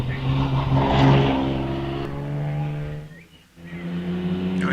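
A vintage Cooper T56 race car's engine revs hard at a hillclimb, its loud, rising note climbing through the gears with a brief dip at a shift before pulling again.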